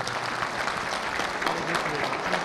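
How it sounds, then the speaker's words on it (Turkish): Crowd at a local municipal gathering giving a strong round of applause for the district mayor, dense continuous clapping from many people held at a steady level, with faint voices mixed in. "güçlü bir alkış veriyoruz"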